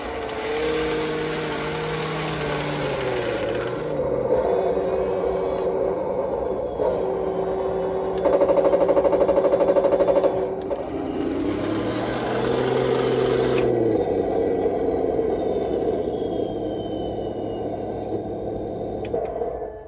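A Heng Long 1/16 scale Pershing RC tank runs through a functions check, its small electric motors giving a steady whine that shifts pitch and rises in bursts as different functions run.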